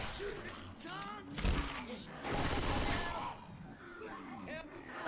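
Gunfire in the zombie shooter Left 4 Dead 2, bursts of rapid shots and a heavy rattling volley mixed with game noise and overlapping voices.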